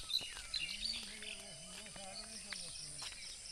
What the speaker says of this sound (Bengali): পাখির ডাক, ঠান্ডা বাতাস,